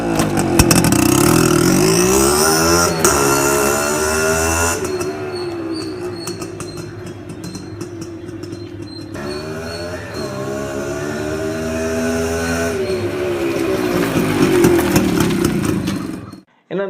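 A modified, fully restored Max100 motorcycle runs close by, its exhaust beat revving up and down in long swells and dropping back to a steady idle between.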